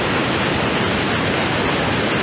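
Augrabies Falls on the Orange River pours steadily, its water producing a loud, unbroken broadband rush with no other sounds standing out.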